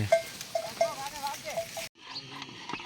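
Water buffaloes on a farm give short, nasal grunting calls, several in quick succession, fairly faint against background rustle and farmyard noise.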